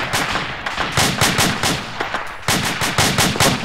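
Rapid bursts of automatic gunfire from an Arma 2 combat mission, loud and close, repeating in clustered volleys with brief gaps between strings of shots.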